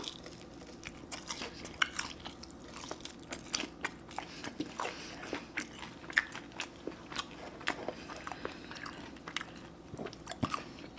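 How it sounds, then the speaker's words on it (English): Someone bites and chews a Chili's Triple Dipper appetizer with ranch sauce, making close, wet crunches and smacks in an irregular rhythm with no talking. "We're gonna try one bite like this and then with the ranch"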